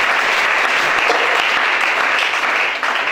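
A church congregation applauds loudly and steadily, a dense roar of clapping that holds through the whole stretch with no breaks and no voice standing out above it.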